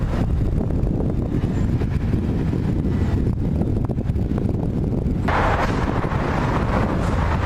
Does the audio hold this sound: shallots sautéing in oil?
no